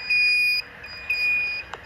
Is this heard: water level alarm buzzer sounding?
yes